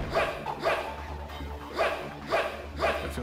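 Dog barking inside the video game Shin Megami Tensei: Nocturne: four evenly spaced barks, steady and moderately loud, set over a low constant game hum.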